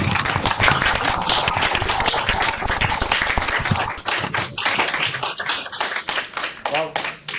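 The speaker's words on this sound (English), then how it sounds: "Give him a round of applause, please." Live audience applause for Pro Football Hall of Fame class of 1997 enshrinee Mike Haynes, dense steady clapping from a crowd that thins and becomes more scattered toward the end.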